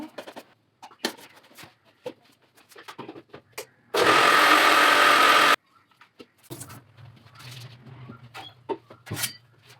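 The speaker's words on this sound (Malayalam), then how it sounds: "എന്നിട്ട് നല്ലോണം അതൊന്ന് മിക്സിയിലിട്ട് അടിച്ചെടുക്കുകയാണ്." A kitchen mixer grinder whirs loudly for about a second and a half as it blends dosa batter with salt, a steady dense roar that starts and stops abruptly amid quieter clinks and kitchen sounds.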